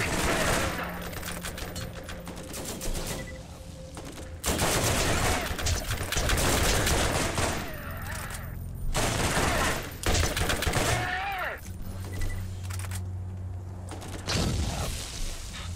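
Rapid gunfire bursts and single shots from a Borderlands firefight crackle in dense, loud volleys with short pauses between them, alongside game effects and no talking.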